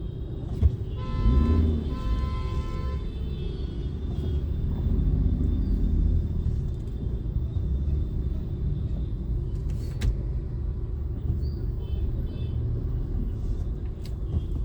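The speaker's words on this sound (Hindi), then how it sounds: "ट्रैफिक जाम ज़रूर है," Traffic jam at a busy road junction during Diwali: a continuous low rumble of idling and moving vehicles with engine drone, a brief horn-like tonal burst near the start and distant honks and clatter throughout, no talking.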